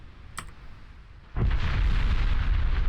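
Naval shell hit in the Ultimate Admiral Dreadnoughts warship game, a sharp click followed by a sudden loud low boom that rolls on as a sustained rumbling blast to the end.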